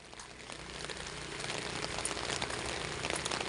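Steady rain falling outdoors, a dense continuous hiss of drops that builds slightly over a few seconds, moderately loud with no voices.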